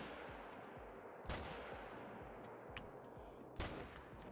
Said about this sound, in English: So I guess we're gonna shoot these guys.